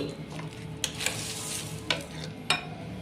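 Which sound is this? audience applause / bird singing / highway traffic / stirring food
stirring food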